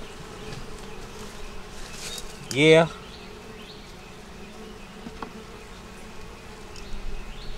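Honeybees drone steadily over an open hive frame holding brood and pollen during an inspection, with one brief louder buzz as a bee passes close and a short spoken word over the hum.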